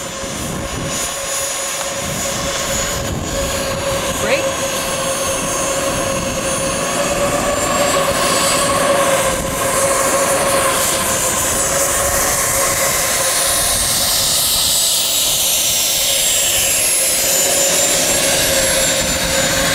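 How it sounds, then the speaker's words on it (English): A Fei Bao F-5E Tiger II model jet taxis with a loud, steady turbine whine and roar that hold continuously throughout, close by with no talk. "And Major Woody taxis back the F5E."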